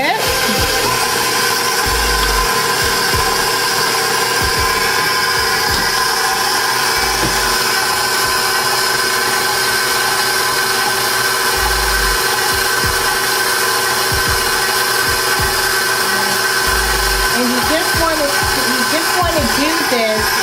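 An electric mixer beating cupcake batter with eggs runs at high speed in a steady loud whir, with a few low thumps and a voice speaking over the machine.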